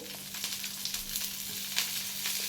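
Dosa cooking in ghee on a pan, a steady close sizzle running without pause, with a few soft scrapes and clicks on top and a low electrical hum beneath.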